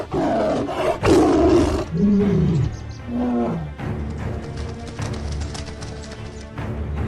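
A tiger roaring as it attacks prey in the forests of Nepal: two or three loud, close, rough roars in the first few seconds, then rustling and thudding movement as the chaos continues.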